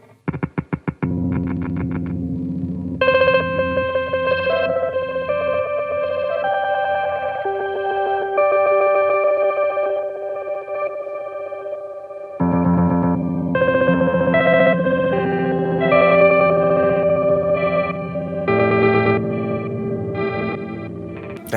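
Glitch grain preset on a multi-effects pedal processing a played guitar or instrument, with stuttering, chopped grains and warbling chorus-like tones, loud and continuous for about twenty seconds with a brief drop midway.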